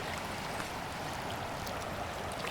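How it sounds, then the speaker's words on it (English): Waterfall and river rushing at Bear Creek near Ouray, Colorado, a steady, dense roar of flowing water that stays loud and unbroken throughout, with no voices. "Beautiful waterfall"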